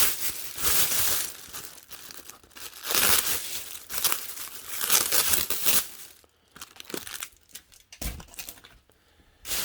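A taped package of bulk Lego is pulled open up close: bursts of crinkling and crumpling plastic and paper with tearing, coming in uneven waves that grow sparser toward the end, with no talking.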